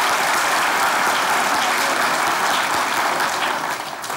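Studio audience applause fills the room for about four seconds, loud, dense and steady, tapering slightly at the end with no talk over it.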